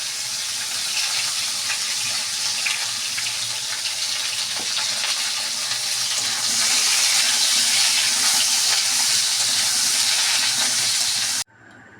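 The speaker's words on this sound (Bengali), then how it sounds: "কাঁকরোলটাও আমি দিয়ে দিয়েছি, একসঙ্গে দুটোকে ভেজে নেব।" Chopped kakrol (spiny gourd) frying in oil in a pan, a steady loud sizzle throughout that cuts off abruptly near the end.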